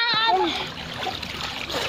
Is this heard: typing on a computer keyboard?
no